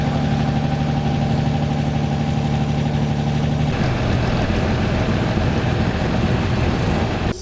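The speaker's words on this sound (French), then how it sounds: "avec sa Lancia Delta 4WD type de 1987" A 1987 Lancia Delta 4WD at a historic hill climb runs loud and close, its engine holding a steady note before the tone shifts and roughens partway through, with no talk.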